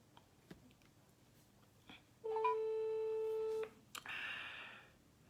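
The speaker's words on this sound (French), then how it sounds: "J'appelle monsieur Bamba Moussa." A phone placing an outgoing call gives a steady electronic ringback tone lasting about a second and a half, clear in a quiet room, with a few small clicks before it and a soft rustle after.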